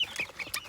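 Baby chicks from McMurray Hatchery, including Americanas, give a quick run of high, thin peeps and chirps, close and fairly faint, in under a second.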